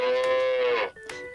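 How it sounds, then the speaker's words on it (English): A cow moos once, close and clear, a drawn-out lowing call that breaks off and trails into a short second grunt. "It is cow."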